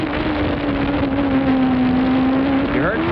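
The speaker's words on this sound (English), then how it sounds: "You're on board with Riccardo Patrese as he tries to run down 6th place Gerhard Berger" Onboard engine of a 1993 Formula 1 car at the Canadian Grand Prix, a loud, steady high-pitched whine holding near-constant revs, then rising and falling briefly near the end as the driver shifts through a corner.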